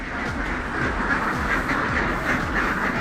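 A flock of ducks on a poultry farm quacking continuously, many overlapping nasal calls forming a dense, loud chorus close by.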